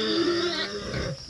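A farm pig grunts loudly and close in one short, rough burst.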